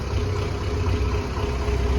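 A D-243 diesel engine idles after starting without glow plugs or preheating following about a month of standing, a steady low rumbling drone with even vibration, close and continuous.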